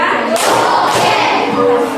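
Students in a classroom clap a short group rhythm together, with two or three loud, crisp bursts of collective clapping over a busy background.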